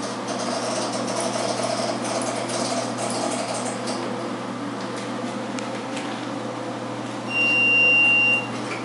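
An Otis freight elevator with a 7,000 pound capacity at the Hotel Roanoke hums steadily through its run, a low machine drone with a brief beeping tone near the end.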